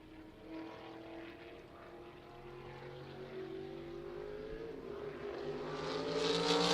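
A USAC sprint car races around turn 4 at Lucas Oil Indianapolis Raceway Park, its engine droning steadily with shifting pitch and growing louder toward the end as it nears.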